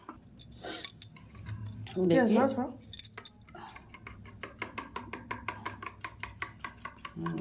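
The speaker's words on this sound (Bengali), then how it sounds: "তো চলো ডিমটা ফাটিয়ে নিই" Eggs cracked against a bowl, then beaten with onion and chilli, giving a quick run of regular close tapping and whisking clicks in a home kitchen, with a voice talking early on.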